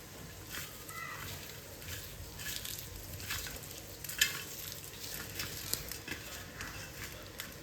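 Onions browning in a pan, a soft steady sizzle with occasional stirring scrapes and light clicks, faint and close, under a quiet room tone.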